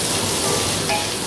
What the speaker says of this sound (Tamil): நம்ம இந்த வெங்காயத்தை வதக்குறோம்